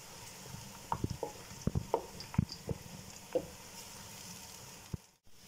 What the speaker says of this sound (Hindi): देखिए प्याज गोल्डन फ्राई हो चुके हैं।